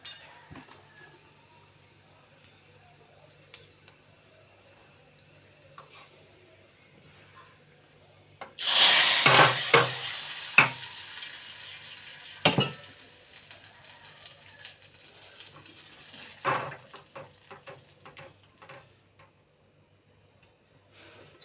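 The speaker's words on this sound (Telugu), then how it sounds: "తాలింపు అయితే వేగిపోయిందండి. నేను ఇప్పుడు దానిలో వేసేస్తాను." Hot tempering poured into tomato rasam with the stove switched off: a sudden loud hiss and sizzle that bursts in, then trails into scattered crackles and a few clinks of a pot, with no talking.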